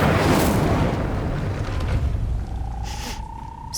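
Incendio fire spell blast in Hogwarts Legacy, a loud whooshing burst up front that rumbles and fades over a few seconds, followed by a faint tonal whistle and small clicks.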